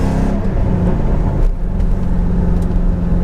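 A supercharged, upgraded Ford Mustang engine rumbles and revs nearby, deep and throaty, with a brief dip before the growl picks back up.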